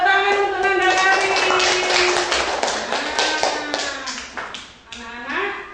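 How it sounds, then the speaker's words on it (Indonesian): A class of children clapping for a classmate, a dense patter of claps under a sung or chanted voice that ends before the clapping fades. "Tepuk tangan untuk Nanda Karin."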